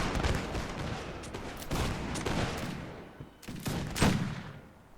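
Musket volleys crackle in the Mount & Blade Warband battle, with dense overlapping shots arriving in ragged bursts, some sharp and close, others rumbling farther off, continuous over the whole stretch without speech.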